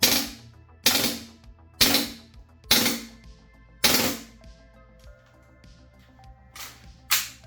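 A Raptor SR-2M gas airsoft replica fires on full auto in repeated short, snappy bursts about a second apart, five loud and close, then a quieter gap and two weaker bursts near the end.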